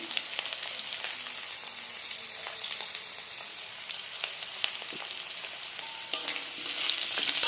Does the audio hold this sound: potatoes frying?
yes